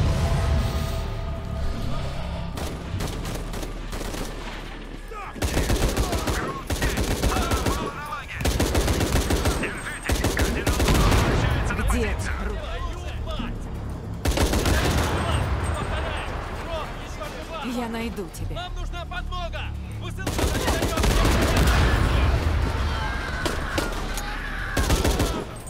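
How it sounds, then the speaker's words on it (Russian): Bursts of machine gun fire ring out in Shadow of the Tomb Raider, loud rapid volleys separated by short pauses, repeating in several long stretches with game sound between them. "Пулемет? Вот это мне нравится."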